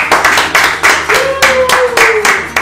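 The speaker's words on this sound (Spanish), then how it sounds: "un aplauso para Heidi" An audience claps for a prize winner at a Spanish-language event, with loud, close, evenly spaced claps from a few people and a brief murmur of voice partway through.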